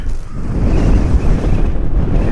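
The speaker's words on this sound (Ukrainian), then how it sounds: "Фест який вітер, дуже фест який вітер, народ." Strong mountain wind at the Bukovel ski resort roars and buffets the microphone continuously, a dense low rumble with no voices.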